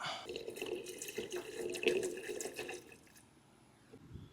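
Gasoline drains from the tank of a Honda HRN216 lawn mower into a can, a steady close trickling pour that tapers off toward a quieter finish.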